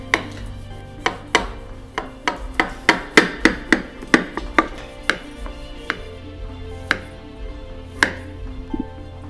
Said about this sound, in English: Now I'm just cutting this up. You probably want to use the sharpest knife you have, just because that way it won't rip the phyllo dough.